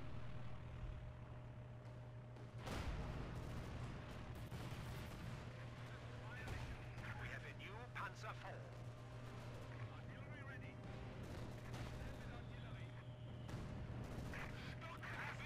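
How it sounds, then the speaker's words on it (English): Artillery barrage pounding a coastline in the World War II strategy game Company of Heroes 2, with repeated booming impacts over a steady engine drone and battle noise, while players chat over it. "I'm destroying that coastline with artillery."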